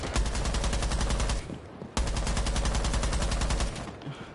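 Rapid automatic gunfire in a video game, two long fast bursts, loud and close, separated by a short pause, with no talking.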